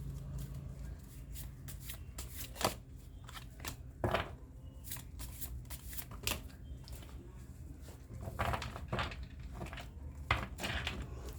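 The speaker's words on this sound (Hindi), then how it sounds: "फर्स्ट मैं कार्ड को ऐसे शफल कर लेती हूँ।" Tarot cards shuffled by hand in a quiet room, a steady run of soft papery riffles and flicks with sharper snaps around the fourth and eighth to eleventh seconds, fairly close and unaccompanied by talk.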